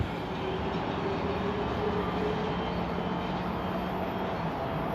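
A continuous low rumble of a long train departing toward Alvik, rolling past at a steady pace, broad and droning throughout with no talking.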